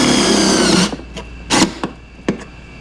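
A power drill drives a screw into the window trim of a 1957 Chevy wagon, whirring loudly for under a second and then giving a few short bursts of whine, close by.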